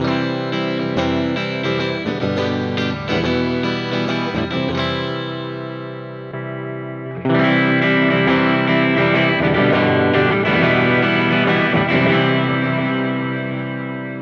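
A Mooer GTRS P800 electric guitar with built-in effects processor plays clean ringing chords with a shimmering, chorus-like sheen, pausing briefly before a brighter passage; no voices.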